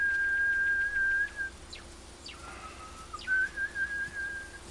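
A signal whistle from a Walking Dead TV episode, a clear sustained tone that bends slightly, pauses briefly, then returns, heard close over a faint low hum with no talking.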